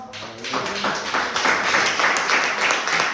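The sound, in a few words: congregation applause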